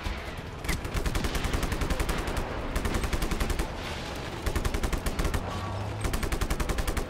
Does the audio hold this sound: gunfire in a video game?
yes